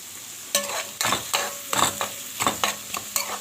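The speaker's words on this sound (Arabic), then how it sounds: "هبدأ بقى ان انا اشوح البصلة بالطريقة ديت" A large grated onion sizzles in hot oil while a utensil stirs and scrapes it in quick, uneven strokes, close up and fairly loud.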